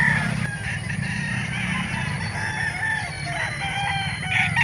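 At a gamefowl market in Calauan, roosters crow and cluck amid a dense bird chorus, with several overlapping calls rising and falling over steady crowd and market noise.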